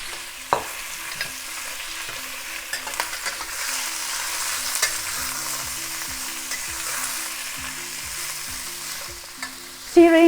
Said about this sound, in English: Now add the pork and sear the outside.